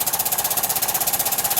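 A Weeden Model 43 toy steam engine running flat out with no throttle control, giving a fast, steady mechanical chuffing rhythm that repeats evenly throughout at moderate loudness.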